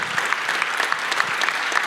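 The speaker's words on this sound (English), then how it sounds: "So I think they should have at least an applause" An audience claps for a hackathon team in brisk, continuous applause, many hands close together, sustained and fairly loud throughout.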